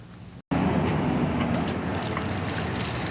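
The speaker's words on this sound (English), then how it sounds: "Why do they have showering water come through there?" Hot spring water pours and gushes steadily and close by in Arkansas, a dense continuous rush after a brief break, with faint voices in the background.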